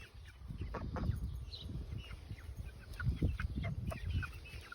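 Backyard chickens cluck steadily nearby in low, soft bursts, with a few brief higher chirps mixed in, continuing throughout without any talking.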